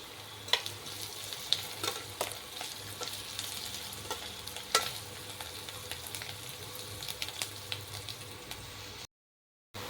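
Onions fry in a pan with a continuous low sizzle, broken by scattered clicks and scrapes of a utensil, before a sudden cut to silence near the end; no talking.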